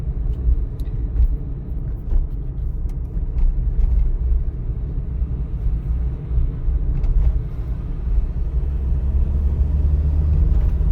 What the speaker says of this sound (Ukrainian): Зараз у мене швидкість 50 км на годину, 2000 оборотів на тахометрі, це обороти двигателя коленчатого вала.